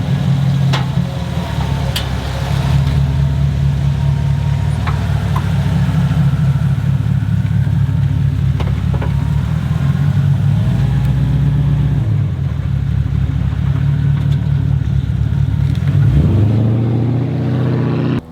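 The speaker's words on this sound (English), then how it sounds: "let's do a quick little comparison between the Hercules angle grinder and the Ryobi angle grinder" Hercules and Ryobi angle grinders run steadily, a loud, continuous motor hum and whine with no talk that holds level before dipping and rising again near the end.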